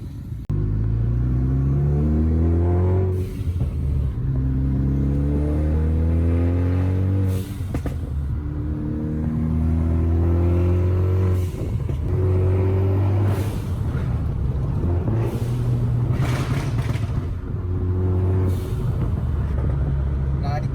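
A Ford Focus ST drives and accelerates, its engine note rising and falling in steady harmonic sweeps as it pulls through gears, loud and close throughout with a constant road rumble underneath.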